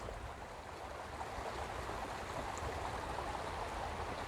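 Steady broadband rush of flowing river water, continuous and even throughout, with no voices.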